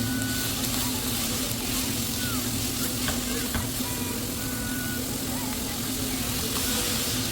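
Three small sliced onions fry with 600 grams of prawns in coconut oil for a prawn roast, a continuous loud sizzle with stirring scrapes and spatters heard close up in the pan.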